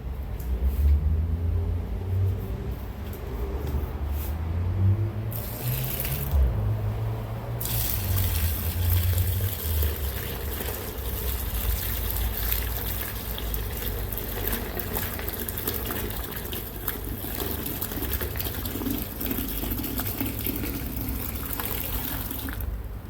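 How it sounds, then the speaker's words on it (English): Kombucha poured into a barrel in a long, steady stream, a continuous rushing and trickling of liquid with a low background rumble, running for over twenty seconds without talk. "So let's see what happens when I pour in the kombucha."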